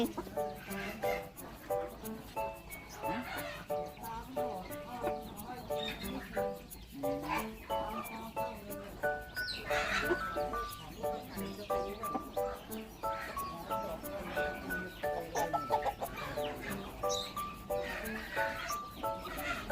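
Chickens, including fighting cocks, cluck steadily throughout amid a busy farmyard din at feeding time, with ducks nearby and people talking over the birds.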